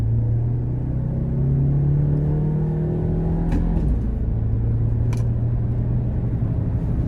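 A 2018 Volkswagen Tiguan SEL engine pulls hard while driving, its rising drone climbing steadily then dropping at a quick gearshift before building again, heard from inside the cabin.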